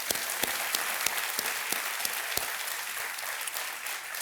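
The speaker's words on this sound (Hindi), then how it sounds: "एक बार फिर हम करते हैं तालियों के साथ आपका" Studio audience applause on a televised quiz show welcoming a housewife contestant, a steady, dense burst of clapping from a large crowd that carries on without talk.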